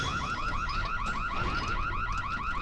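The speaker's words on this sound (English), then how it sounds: "Best car alarm I've ever heard." A loud, continuous warbling alarm in Super Mario Galaxy cycles rapidly up and down in pitch like a car alarm, steady and close, with no voices over it.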